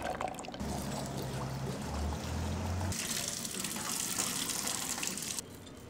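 Chickpeas are rinsed under a running kitchen tap, water pouring and splashing steadily into the sink, loud and close, with a low hum behind it at first.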